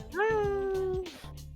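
A cat in the Persona 3 Portable video game gives one drawn-out meow, close and clear, with soft talking and game sounds around it.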